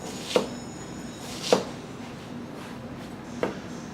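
A 7-inch Tokageh Santoku Classic Series knife chops through a large onion on a board, giving three sharp, separate knocks spaced about a second or two apart over a quiet background, with no talking.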